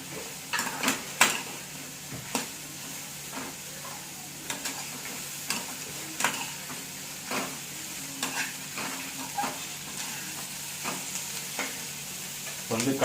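Chillies frying in oil in a pan for tomato chutney, a steady close sizzle broken by repeated sharp scrapes and clinks of a spoon stirring against the metal.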